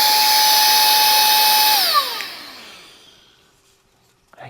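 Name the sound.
HEEBUKE handheld vacuum cleaner brushless motor running, blowing air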